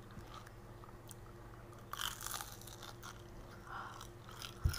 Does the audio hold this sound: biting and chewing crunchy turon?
yes